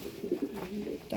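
Ornamental pigeons coo in low, rolling, throaty phrases that carry on steadily through the short stretch, close and fairly loud, with no one talking.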